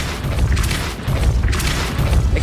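Depulso spell effect from the Hogwarts Legacy video game: a loud, dense booming blast with heavy low rumble and crackling bursts, recurring in a few surges across the moment with no voices.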